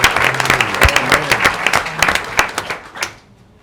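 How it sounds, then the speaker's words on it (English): Audience at a school district board of trustees meeting claps in a dense, lively round of applause that stays strong, then fades out quickly at the end. "Let's give that a round of applause."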